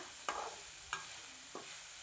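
Long beans for a Kerala-style stir-fry cooked uncovered on raised flame, stirred in a pan: three distinct scraping strokes over a faint low sizzle, quiet and close.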